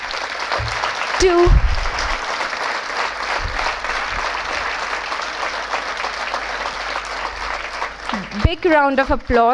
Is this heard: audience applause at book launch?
yes